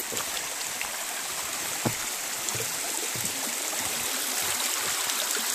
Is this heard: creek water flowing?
yes